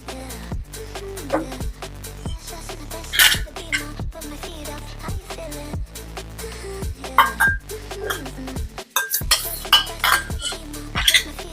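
Yogurt goes into a pan of spiced oil with the gas off for a Gujarati dahi tikhari curry, followed by repeated metal spoon clinks and scrapes against the pan, close and uneven, with faint birdsong behind.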